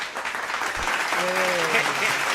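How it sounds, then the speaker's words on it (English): A talk show studio audience applauds in a steady, dense wash of clapping, with a voice briefly rising over it partway through. "So, look, I taking my applause for that."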